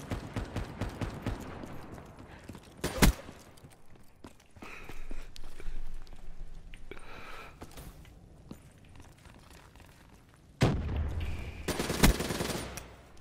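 Video game gunfire comes in sharp bursts and rapid machine-gun volleys, with quieter clattering steps and action noise between loud clusters near the start and end; no talk.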